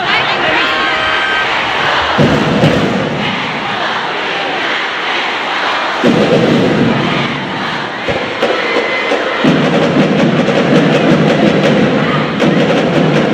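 Crowd at a Philippine women's volleyball league match between Choco Mucho and Creamline roaring in a big arena, a sustained, loud, surging cheer with rising intensity near the end of the game, with a commentator talking over it.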